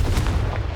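Confringo blast spell in Hogwarts Legacy on PS5: a short, dense low booming burst that rumbles steadily, with no talk.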